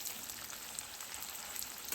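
Onions fry in a pan with a steady, soft, hissing sizzle that runs evenly throughout, with no voices.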